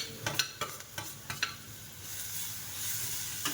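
Onion, tomato and green mung beans being sautéed in a pan, with a few quick scraping stir strokes at the start, then a soft steady sizzle and hiss that continues quietly to the end.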